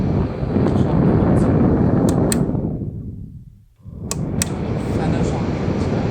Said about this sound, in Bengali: ফ্যানের শব্দ হচ্ছে